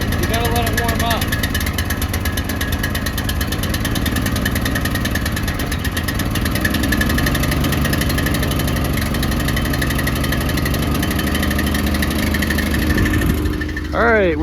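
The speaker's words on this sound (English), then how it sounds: "it's another day of power washing. You gotta let it warm up." A pressure washer's engine warms up at a steady, loud idle, a constant mechanical drone running throughout, with a voice speaking over it.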